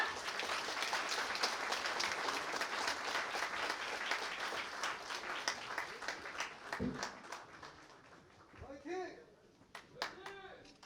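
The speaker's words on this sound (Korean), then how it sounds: "여러분, 이경기 의원님을 모두 큰 박수로 맞이해주시기 바랍니다." An indoor audience at a lawmaker's first constituency report meeting in Incheon's Namdong district applauds in a dense, steady burst that thins toward the end. A few scattered claps and voices remain as it fades.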